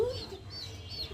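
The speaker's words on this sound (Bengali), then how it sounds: "ব্রয়লার মুরগির বাচ্চা এই যে খাঁচার ভিতরে রাখছি" Broiler chicks kept in a cage give soft, high peeping chirps, a few quick calls at low volume against a faint background hum.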